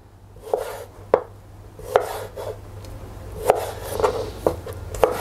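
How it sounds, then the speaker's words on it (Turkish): A knife chops tomato into cubes on a board, making about nine distinct close-up knocks at an irregular steady pace, with a low background hum and no talk. "Yine domatesi de böyle küp küp olacak şekilde doğrayacağız."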